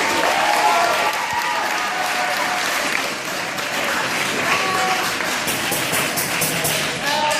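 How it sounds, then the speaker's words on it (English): An audience at a school poetry event claps steadily and loudly for several seconds, a dense sustained applause with no pauses. "Give her a round of applause, everyone."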